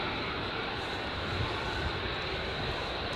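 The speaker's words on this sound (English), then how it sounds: "This guy's coming out with only what appears to be a single engine running." An aircraft taxis out with only a single engine running, giving a steady, dense engine roar that holds at an even level throughout with no voices.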